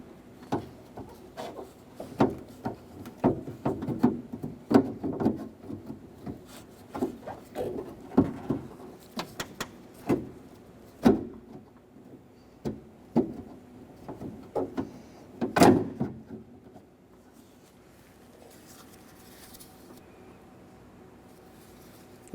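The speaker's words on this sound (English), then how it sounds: "carefully remove the door handle from the door" Close, irregular clicks, taps and plastic rattles of an exterior handle being worked loose from a 2004-2006 Scion xB driver door, ending in a quiet stretch.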